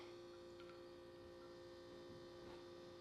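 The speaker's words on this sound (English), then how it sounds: "Why is the fridge making a weird noise in the middle of this video?" A refrigerator hums steadily in a home kitchen where a matcha energy drink is being mixed, a constant low electrical drone with faint clinks over it.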